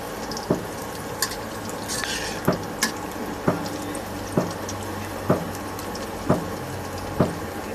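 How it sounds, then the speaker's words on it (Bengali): Onions fry until brown in a pan with a steady, close sizzle, while a spoon stirs and taps the pan roughly every second, about nine sharp knocks in all. No one speaks. "পেঁয়াজটা একটু বাদামি করে ভাজি নেই।"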